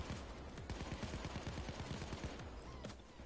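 Sustained automatic gunfire from a Payday 2 firefight rattles in a fast, steady stream of shots, fairly distant and muffled, with no talk over it.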